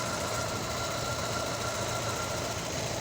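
An Opel Vectra 2 engine runs steadily at idle in a workshop during crankshaft sensor and cam timing work, a continuous even hum with light rhythmic ticking and no talk.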